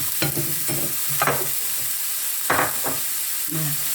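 Basil stir-fry with fish cooking in a pan, with spatula scrapes and stirring strokes in bursts over a steady sizzle, close and fairly loud, no talking.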